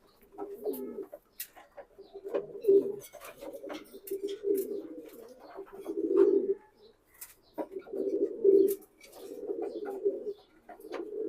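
Racing pigeons, a pedigreed pair of young birds, coo repeatedly in low throaty bursts at close range, the calls recurring in a steady rhythm with a few faint background noises and no talk.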